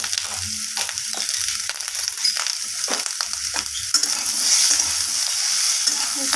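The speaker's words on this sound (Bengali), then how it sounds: "সব কিছু মশলা দিয়ে এখানে আবারও আমি সব কিছুর সাথে এইভাবে নাড়িয়ে চাড়িয়ে মশলাটাকে কষিয়ে নেব।" Turmeric, red chilli and cumin powder are stirred and fried in a pan for a spinach and potato dalna, with scraping spoon strokes over a steady oil sizzle that grows louder toward the end.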